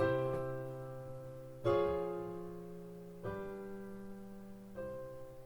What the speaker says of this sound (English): That's 1 going to the Neapolitan 6, going to 5, going to 1.